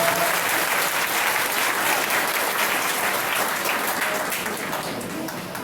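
Sustained audience applause after a Hindi poetry recitation at a motivational talk, a dense steady wash of many hands clapping that fades slightly toward the end, with no voices over it.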